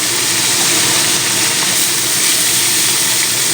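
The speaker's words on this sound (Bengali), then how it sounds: "কড়ায় তেলটা খুব ভালো মতন ধোঁয়া ওটা গরম হয়ে গেছে এবার দিয়ে দিল নুন আর হলুদ মেখে রাখা মাছ" Snakehead fish coated in salt and turmeric frying in smoking-hot oil in a wok, giving a loud, steady, unbroken hiss throughout with no voices.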